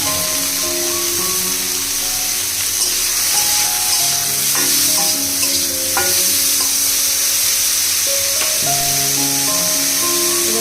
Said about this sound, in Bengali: এবার আমি এখানে অ্যাড করছি বেগুন বেগুনগুলোকে আমি হালকা করে ভেজে নেব